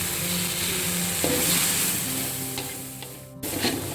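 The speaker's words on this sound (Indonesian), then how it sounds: "jadi ini saya tambahkan air ya. Tuangkan di sini." Water poured into a pan of blended chili spice paste for salted fish balado produces a soft, continuous sizzle and bubbling stir, close up and without any talking.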